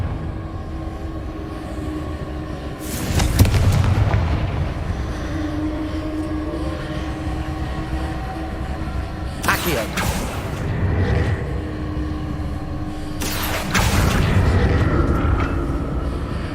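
Confringo blasting curse explosions in Hogwarts Legacy, a fantasy video game, go off as three sharp broadband bursts spaced several seconds apart over a steady rumbling bed of game ambience and music.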